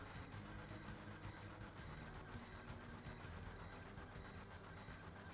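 A moving train at high speed in Final Fantasy 7, a steady dense rumble and clatter of wheels on track running continuously and fairly loud, with no talk over it.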